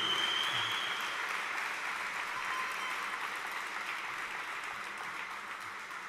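Applause for an award winner at a sports gala ceremony in Ponta Delgada, sustained clapping from a seated audience that starts full and slowly thins, heard from some distance in a large hall.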